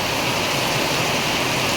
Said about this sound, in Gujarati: વરસાદ પડી રહ્યો છે